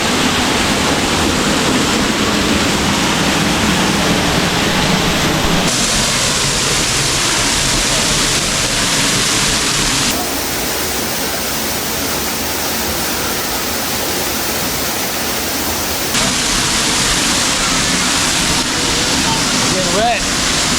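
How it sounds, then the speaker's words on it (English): Grotto Falls in the Smokies pours into a pool, a loud, close, continuous broadband rush of falling water that shifts slightly in tone as the listener moves. "You'll hear and feel the thunderous rush of water pouring into the pool at your feet."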